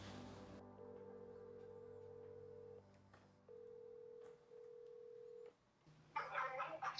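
Two long, steady phone tones sound in turn with short gaps between them, like a call ringing out, followed by a brief burst of noise.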